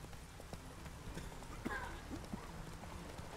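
Clip-clop of horse hooves in a steady trotting rhythm during a horse race in The Witcher 3, mixed under game music and ambient noise, with a voice speaking briefly.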